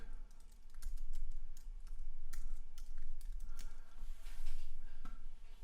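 Keys on a computer keyboard tap in quick, uneven bursts, close and fairly quiet, with brief pauses between runs and no talking.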